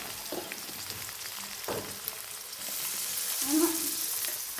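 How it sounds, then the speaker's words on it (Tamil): Crushed ginger, garlic and small onions go into hot oil and fry with a crackling sizzle, broken by a few stirring scrapes and a hiss that builds toward the end, close by. "அதுக்கப்புறம் நாங்கள் இடித்து வச்சுருக்க இஞ்சி பூடு, சின்ன வெங்காயம்."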